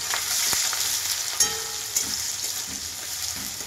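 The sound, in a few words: onions frying in hot oil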